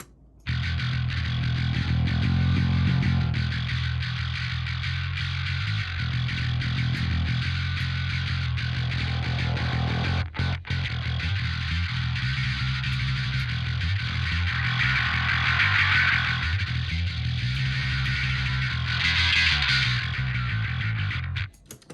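A bass guitar played through heavy distortion, thick and buzzing with sustained gritty notes that shift in pitch, loud and continuous with no talking.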